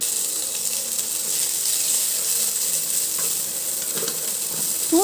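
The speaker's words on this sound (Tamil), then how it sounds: "இதை எல்லாத்தையும் சேர்த்து வதக்கி விட்டுக்கலாம்" Shallots, garlic and peeled ginger sizzle and fry in a pan with a steady, close crackle, broken by a few stirring scrapes toward the end, and no voice over it.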